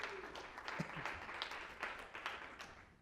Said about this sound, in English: Round of applause for Jill